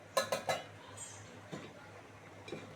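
Three quick metallic clinks close together, then a few softer knocks, as a lid is set onto a cooking pan of ridge gourd in a home kitchen, quiet and close.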